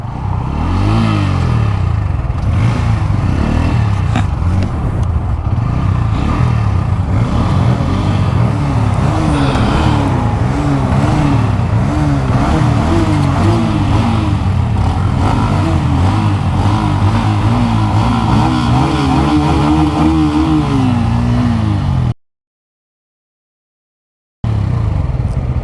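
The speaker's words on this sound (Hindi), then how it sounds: "शीशे बंद कर लेते हैं, बाइक स्टार्ट कर लेते हैं।" Pulsar N160 and Apache 160 motorcycles starting and drag racing, loud close engines revving and climbing through gears in rising and falling waves before cutting to silence near the end.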